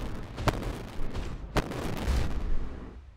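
Heavy titan weapons booming in the Warhammer 40k strategy game Adeptus Titanicus: Dominus, two sharp loud blasts over a dense rumbling roar of continuous battle noise.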